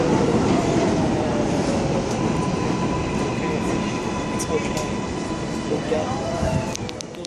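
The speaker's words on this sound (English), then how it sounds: "Waiting for the 7 local train to cross the main street." An R188 7 local subway train on the elevated IRT Flushing Line at Woodside 61st St rolls past with a loud, continuous rumble and rattling clatter, thinning out near the end as a few sharp metallic squeals ring out.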